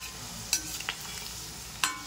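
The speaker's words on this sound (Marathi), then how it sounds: "ती थोडीशी क्रिस्पी झाली पाहिजे अशा पद्धतीने तळून घ्यायची। लोखंडी कढईत करणार आहे" Okra frying in an iron wok while being stirred, a soft steady sizzle broken by a couple of sharp scraping stirs, close and without talk.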